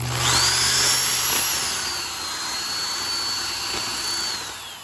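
A power drill with a 1/2 inch bit whirs steadily and close, clearing debris from inside a wooden carpenter bee trap, its pitch dipping slightly as it bites.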